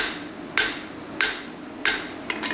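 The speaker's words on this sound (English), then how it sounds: "This is a pulling hammer blow." Pulling hammer blows striking hot metal at the tip during forging, three sharp ringing strikes about evenly spaced, then a lighter fourth tap, close and alone.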